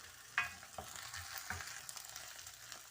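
Ginger, green chili and cumin fry in a pan, a faint close sizzle with scattered stirring taps and clinks, no voices.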